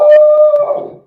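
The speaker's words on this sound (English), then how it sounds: "More barking." A dog gives a single drawn-out, tonal bark that tails off into a whine, loud and close, lasting about a second with no talking.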